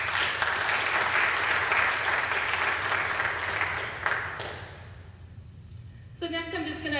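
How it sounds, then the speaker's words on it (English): Members at an association's annual meeting give a round of applause, steady clapping that fades out after about four seconds before a voice resumes speaking. "So let's give ourselves a round of applause."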